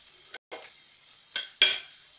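Sucuk frying in a pan at home during breakfast preparation, with a few brief bursts of sizzle and the clink of stirring against the pan, fairly close and with no voices.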